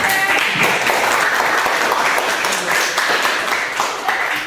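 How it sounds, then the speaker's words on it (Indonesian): Audience clapping together in a group session, a thick continuous wash of applause from many hands that stays loud throughout with slight swells. "kita beri tepuk tangan untuk kita semuanya."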